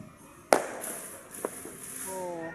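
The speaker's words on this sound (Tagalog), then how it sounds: "Oh, fireworks." A sharp New Year firework bang is followed by fainter pops and crackling at a distance, with brief voices around it.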